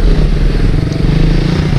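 A Yamaha R1 sports motorcycle engine runs steadily up close, a loud, throbbing idle with a rough low rumble that holds even throughout.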